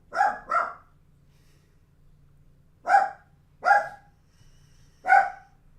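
A dog barks in short bursts: two quick barks, a pause, then three more spaced barks, loud and close in a quiet room.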